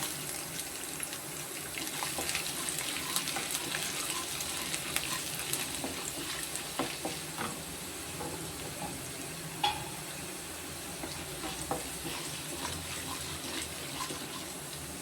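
Garlic and lentils frying in a pan for masala idli, a soft continuous sizzle with faint scattered crackles and stirring sounds, quiet and close, with no one talking.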